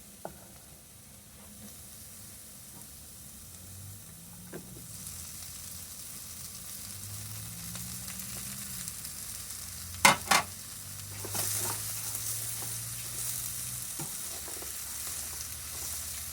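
Water spinach stir-fried with curry paste and pork rinds in a pan over low heat: a soft sizzle runs throughout under scraping stirs, with a couple of sharp utensil clacks and a brighter burst of frying.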